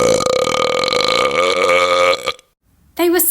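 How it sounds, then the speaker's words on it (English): A person lets out a long, deep, loud burp that rumbles for about two seconds and ends abruptly. After a short silence, a second forceful belch starts close to the mic. "the burps became outrageous"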